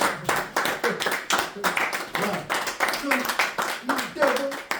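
Church congregation clapping in rhythmic bursts of applause, steady and moderately loud throughout, with voices mixed into the clapping.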